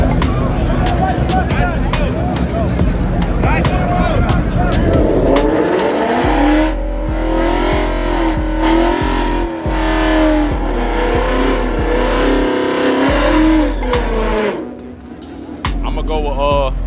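A Mustang drag racing in a grudge race in Reynolds, Georgia, its loud engine roaring steadily with tire noise, while voices chatter over it throughout.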